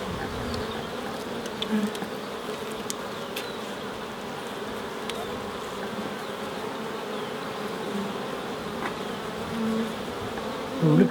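A bee buzzes steadily around a beekeeper working near a hive, a continuous close insect drone with faint background activity and no talk.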